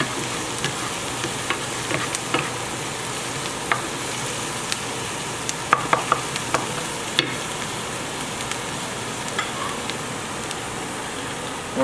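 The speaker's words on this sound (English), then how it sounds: "when you get garlic and onions and olive oil in a pan" Garlic and onions fry in olive oil in a pan with a constant crackling sizzle and scattered sharper pops and clicks from the pan, fairly close and unbroken by speech.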